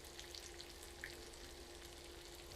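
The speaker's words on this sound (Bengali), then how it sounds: "আলুটাকে আমি প্রায় 7-8 মিনিট ভেজে নিব এইভাবে" Thinly sliced potatoes fry in a pan, giving a soft, steady sizzle with faint crackles and occasional stirring, quiet and uninterrupted by speech.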